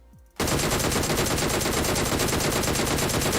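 After a brief quiet moment, sustained rapid automatic gunfire from a gun in PUBG Mobile erupts and continues loudly and without pause, a dense stream of shots to the end.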